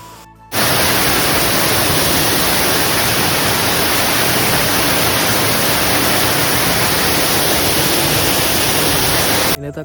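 The 7 Wells waterfalls at Yellandu send water pouring down over rocks in a loud, dense, unbroken roar that starts abruptly and holds steady, with no voices audible above it.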